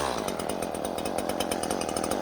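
A Stihl MS-150C chainsaw cuts through pinewood, its high buzzing whine held steady and loud and close up for the whole stretch with a rough, rattling cutting texture underneath.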